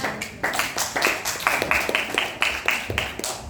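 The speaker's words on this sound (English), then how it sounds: "Give applause to Nia." A small class claps for a student after her storytelling, a brief scattered round of hand claps with a few distinct hits standing out, close and moderately loud.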